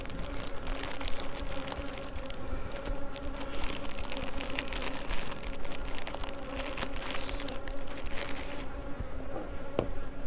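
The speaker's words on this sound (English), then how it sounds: "this colony right here, this hive right here, has had the name Devil Girls." A honeybee colony at a hive in Florida in October hums with a steady, dense buzzing, close and continuous, with individual bees zipping past now and then and no voices.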